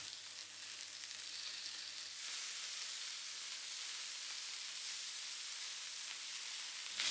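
Monkfish medallions fry in a pan with a steady, hissing sizzle that turns louder and fuller about two seconds in, then holds even with no talking.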